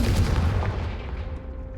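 Confringo spell explosion in Hogwarts Legacy, a single sharp, punchy blast that quickly decays into a low rumble, loud and close with no voices.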